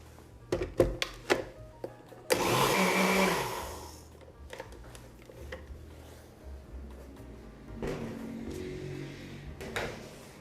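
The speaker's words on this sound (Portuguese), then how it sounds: "a gente vai para a batedeira." An electric stand mixer whirs loudly as it beats cake batter for a festa junina recipe, with a steady motor burst that later returns more softly, surrounded by scattered kitchen clatter.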